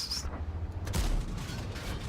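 Tank cannon fire in the video game World of Tanks: a sharp, crackling shot is followed by a heavy low boom about a second later, then a rolling rumble that fades out. No one speaks.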